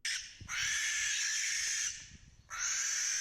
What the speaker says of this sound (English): you won't find an outburst that's more to blame for mental anguish than the banshee-coated barn owl